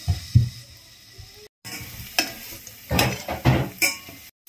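Chopped garlic dropped into hot oil in a pan, crackling and sizzling in bursts with a few stirring scrapes and a short silent gap, close and fairly loud.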